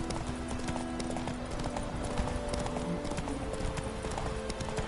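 Roach, a horse in The Witcher 3, gallops steadily with a dense, continuous clip-clop of hooves over a constant backdrop of game ambience, with no talk.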